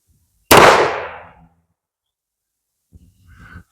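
Single sharp report from a CCI Stinger rimfire round fired through a chronograph, a loud crack with a short decaying tail, followed by silence and a faint clunk near the end.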